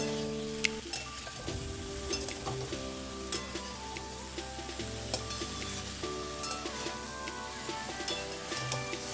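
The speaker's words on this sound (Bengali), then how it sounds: "ভেজে রাখা এঁচোড় আর আলুটা দিয়ে ভালো করে নেড়ে চেড়ে পরিমাণ মতো জল দিয়ে ফুটতে দিলাম" Fried jackfruit and potato with spices bubbling in a pan after water is added, giving a steady, close, soft sizzle with small crackles and an occasional stir, no voices over it.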